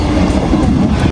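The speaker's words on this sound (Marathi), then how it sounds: "ट्रेन आली आहे" A train arrives at a station in Maharashtra, its loud, steady rolling rumble and clatter filling the moment at close range before cutting off abruptly.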